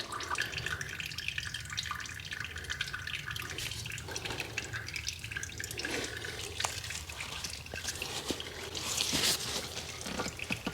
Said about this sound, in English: we're going to let it drain as much as we possibly can